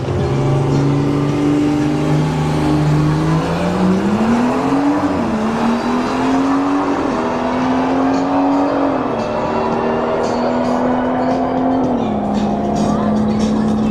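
Drag racing cars, a BMW and a G70, roar loudly and continuously at Bradenton Motorsports Park, pitch climbing and stepping up through gear shifts as they accelerate hard, heard from fairly close.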